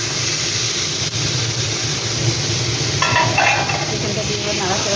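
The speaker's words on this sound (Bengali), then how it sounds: "চিকেনটা দিয়ে এবার নাড়াচাড়া করবো বন্ধুরা ঠিকঠাকভাবে।" Chicken pieces fry in hot oil in a pan, a steady close sizzle and hiss, with a short burst of scraping from the stirring spoon partway through.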